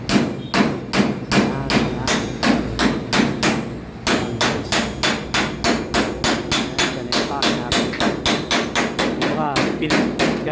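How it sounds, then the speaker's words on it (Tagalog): Steady metal hammering on a jeepney roof panel in a motor shop, where a Filipino jeep is being lengthened: many sharp, loud, closely spaced ringing blows in a fast, regular rhythm, continuing throughout with only a brief pause. "Yan, pinupupuk pa ni Danny, oh, yan."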